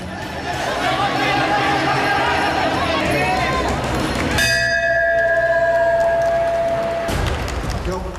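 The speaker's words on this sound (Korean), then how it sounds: "시작을 알리는 종소리와 함께 경기가 진행된다." A ringing bell marks the start of a Muay Thai bout, one sustained clear tone over a noisy, cheering crowd and a talking voice.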